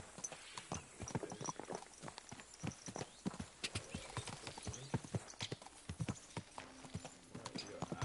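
Horse hooves clip-clop steadily in a video game, a brisk rhythmic run of close, distinct hoofbeats lasting throughout with no talk over them.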